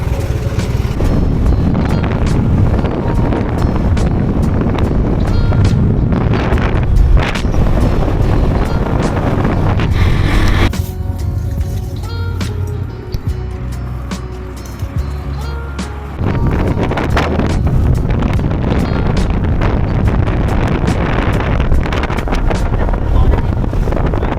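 Continuous wind buffeting on the microphone while riding a motorcycle on a short trip to buy food, a loud steady rumble that dips briefly midway, with faint voices now and then.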